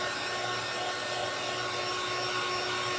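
A hair dryer blows steadily at close range to dry paint on a pink-painted pumpkin, a constant whooshing motor hum with a faint steady whine, running alone without pauses.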